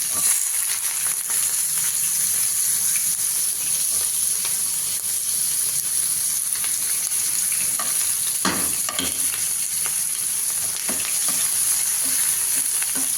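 Fenugreek seeds, cardamom and onions frying in hot oil for a mutton curry make a steady close sizzle with occasional crackles and stirring clatter, and no talk.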